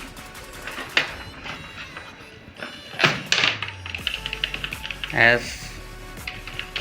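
Computer keyboard being tested after repair and washing, with a few sharp key clicks and taps standing out amid close talking.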